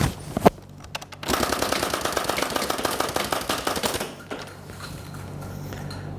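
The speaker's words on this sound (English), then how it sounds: "Okay, let's do some shooting." BoomCo Rapid Madness toy blaster firing in a rapid burst, a fast stream of sharp mechanical clacks and thumps running for several seconds after a single loud pop, then fading.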